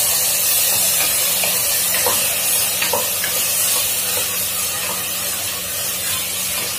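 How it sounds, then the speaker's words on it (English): Steady, dense sizzling from garlic and onion paste frying in a pan, with occasional faint stirring clicks and scrapes, close and continuous with no talking. "So now you see the sizzling sound,"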